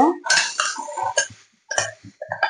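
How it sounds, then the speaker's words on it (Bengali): Marinated paneer tipped into melted butter in a pan while preparing paneer capsicum: a few close clinks and scrapes of utensil against pan in short bursts, with a brief pause midway. "বাটারটা মেল্ট হয়ে গেছে, এই সময় মেরিনেশন করা পনিরটা দিয়ে দেব"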